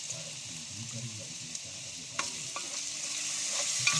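Pork sautés in a pan with a continuous sizzle that builds slightly, over a low background hum and a few clicks of stirring.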